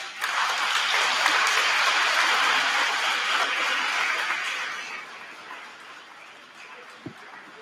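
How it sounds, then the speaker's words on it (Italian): A crowd claps and applauds a choir at a Mass for several seconds, the clapping fading out gradually, followed by a single soft knock. "Facciamo un applauso al coro"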